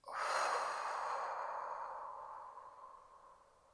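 One long, full exhale during a yoga session, a breathy airy rush that starts strong and slowly fades over several seconds, close and alone.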